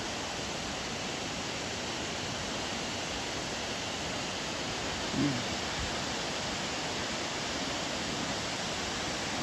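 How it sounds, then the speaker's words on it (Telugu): Chelimicheni waterfall thunders in a dense, unbroken roar that fills the whole stretch, steady and loud with no letup. "చూడండి ఏం పడుతున్నాయి నీళ్ళు"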